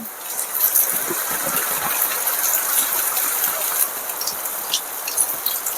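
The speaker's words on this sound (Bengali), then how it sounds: "সকালবেলা ঘুম থেকে উঠে বৃষ্টি শুরু হয়ে গেছে আর দেখো কেমন বৃষ্টি হচ্ছে" Heavy morning rain pours onto a courtyard, a dense, steady hiss of falling water with scattered splashes and drips, loud and continuous with no voices.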